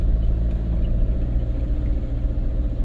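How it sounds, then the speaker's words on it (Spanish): A van engine drones steadily while driving on a farm, a low continuous rumble heard from inside the cab with no other prominent sounds. "Bueno, pues ya estamos en marcha aquí en la furgoneta"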